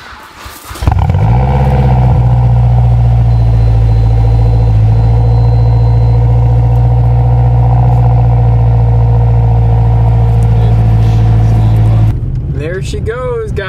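Hyundai Genesis Coupe 2.0T started cold after six months of sitting, cranking briefly, then catching into a loud, steady idle with a deep droning hum, close by, with a voice near the end.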